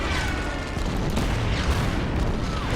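Stuka dive bomber strike in the Order of Battle war strategy game, set in a desert sandstorm at Kasserine Pass: a dense, continuous rumble of booming blasts and artillery-like fire, loud and sustained with no voices over it.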